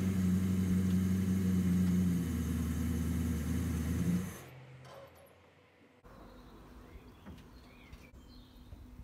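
A Range Rover engine idles and rumbles loudly nearby while maneuvering to load a car onto a trailer, then drops away and cuts off, leaving faint outdoor ambience with distant birds.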